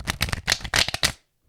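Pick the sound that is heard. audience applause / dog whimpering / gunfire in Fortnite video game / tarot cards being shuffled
tarot cards being shuffled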